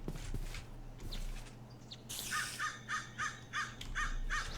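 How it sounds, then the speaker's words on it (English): Crows in the Minecraft modpack Forgecraft caw in a quick run of about seven harsh, evenly spaced calls, fairly close, after a few soft rustling footsteps and ambient forest noise. "The only sound I don't like are the crows."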